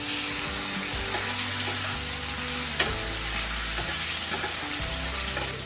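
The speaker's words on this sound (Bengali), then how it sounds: "তো তেল গরম হয়ে গেছে, এবারে চিকেনগুলো জাস্ট ভেজে নিয়ে এর উপরেই সবজিগুলো দিয়ে দেব।" Boneless chicken breast frying in hot oil in a home kitchen, a steady, dense sizzle that stays loud and even throughout, with occasional stirring clinks and no speech.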